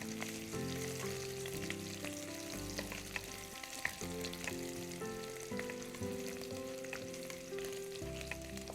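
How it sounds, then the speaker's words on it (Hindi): Onions fry in a pan with a continuous close sizzle and occasional stirring scrapes. The sound is steady and even throughout, with no voices. "तो इसे ज़्यादा नहीं फ्राई करना है हमें नहीं, प्याज को"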